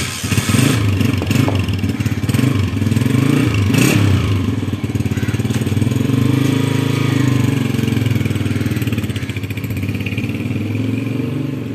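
A motorcycle engine runs steadily and close by throughout, a loud chugging rumble with a rattling mechanical clatter while the bike is ridden, and no talk over it.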